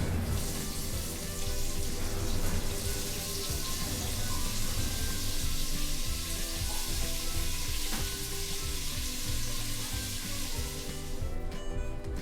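Chopped tomato hits a hot pan of sambhar base with green chili, giving a steady, loud sizzle and frying crackle that runs without a break, with faint stirring scrapes.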